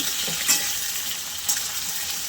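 Chopped capsicum frying in oil, a steady bright sizzle with two brief louder crackles as pieces are stirred, close and alone.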